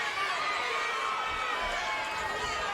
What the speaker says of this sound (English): Crowd now shouting, "Let's go, Lyman."